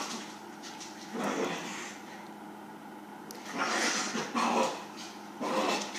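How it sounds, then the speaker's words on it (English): Dog indoors yipping, whimpering and barking in a few loud, ragged bursts with quieter gaps between, close by against a faint room hum, with no speech. "Sorry, my dog's crazy."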